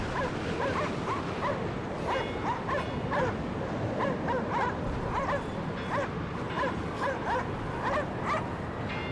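A dog in the Cryostasis video game barks repeatedly in a steady run of sharp yips, close and fairly loud, with no talk over it.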